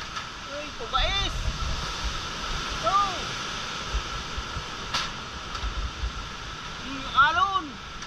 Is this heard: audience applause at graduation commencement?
no